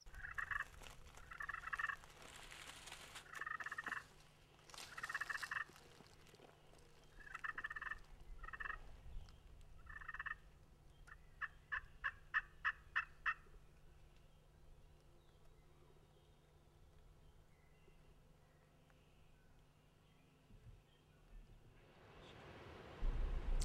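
Wild turkeys gobble in a series of distinct calls, some fairly close and others softer, with a quick stuttering burst of gobbles partway through over a quiet outdoor background; no talking.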